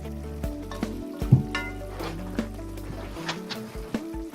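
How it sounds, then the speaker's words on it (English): Pasta cooks in a pan with a steady, low sizzle and frying hiss, broken by a few soft clinks of stirring, under a faint background tone. "I can hear Aaron chuckling as he's preparing his pasta"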